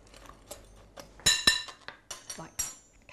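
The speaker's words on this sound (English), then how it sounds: "if you just use a fork, you can just mix" A fork mixes a muffin crumble topping with brown sugar in a bowl, giving a handful of sharp metallic clinks and scrapes against the bowl that come in irregular bursts, close and fairly loud.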